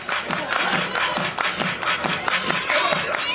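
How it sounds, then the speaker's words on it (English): Rhythmic clapping from a crowd in the stands at a women's college softball game between Texas and Ole Miss, steady repeated claps at a moderate distance with general crowd noise underneath. "Everybody clap your hands."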